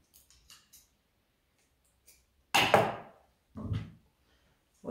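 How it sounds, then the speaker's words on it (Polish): Scissors snip through craft material at a Christmas decoration workshop making candle holders, one sharp crunching cut followed by a second shorter one, near and alone after faint small clicks. "Nożyczki."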